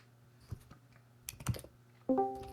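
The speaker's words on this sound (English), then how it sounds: "I hear you typing." Soft, close computer keyboard typing in quick irregular bursts of key clicks, with a denser flurry of keystrokes near the end, in an otherwise quiet room.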